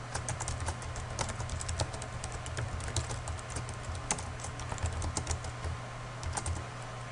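Someone types Java code on a computer keyboard: a steady, close stream of clicky keystrokes over a low background hum, with no talking.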